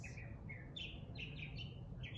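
Several birds chirp and sing in short bright phrases repeating throughout, fairly faint and distant over a low steady background hum during a yoga flow session.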